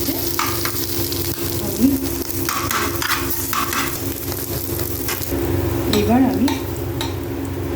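Paneer frying in a pan with a steady sizzle and repeated scraping and stirring of a utensil against the pan. A person speaks briefly near the start.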